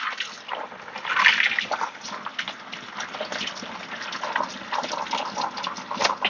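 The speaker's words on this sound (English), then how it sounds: "fill the bag mostly full of water." Water gushes and splashes into a plastic bag holding salted, cleaned squirrels, a continuous pouring sound that swells and eases close by, with no talk.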